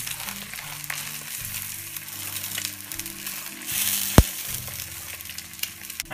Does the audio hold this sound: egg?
yes